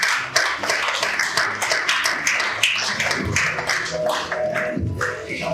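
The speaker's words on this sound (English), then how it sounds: "A round of applause for her one more time." Audience at a Nigerian business event on sustainable practices for SMEs clapping for a speaker; fairly close, uneven hand claps with distinct individual slaps and irregular rhythm, thinning out and growing sparser toward the end.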